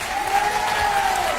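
Sustained audience applause and clapping for a singer at a live radio breakfast show event, a steady dense crowd sound filling the whole moment.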